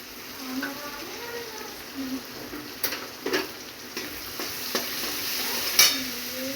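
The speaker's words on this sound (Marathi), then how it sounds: "थोडंसं परतून घ्यायचं त्याच्यामध्येच हळद घालून घ्यायची" Vegetables with turmeric are stirred and sautéed in a pan, giving a soft, quiet sizzle with scattered scrapes and light clinks of the spoon against the pan, with no talk.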